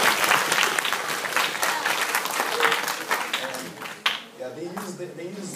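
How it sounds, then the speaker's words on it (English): Audience applause at a university laser light show introduction, dense and sustained clapping from a crowd that thins out near the end as a voice begins speaking. "Let's give a round of applause to"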